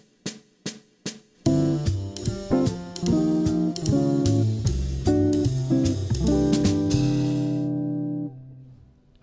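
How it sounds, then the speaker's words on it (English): Jazz guitar comping a major 2-5-1 reharmonized with suspended 4 chords: a few plucked single notes, then a string of strummed and plucked chords in loose rhythm, ending on a long ringing chord, close and clear. "Here's one example of what a simple major 2-5-1 sounds like when reharmonized with suspended 4 chords."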